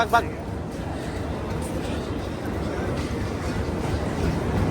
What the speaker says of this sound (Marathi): इंजिन चालू झालंय